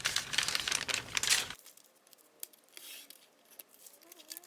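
Scissors trimming paper for a collage, with close rustling snips and paper crinkles for about a second and a half, then fainter handling sounds.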